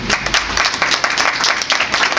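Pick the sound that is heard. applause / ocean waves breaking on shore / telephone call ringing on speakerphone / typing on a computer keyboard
applause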